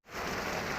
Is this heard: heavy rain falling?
yes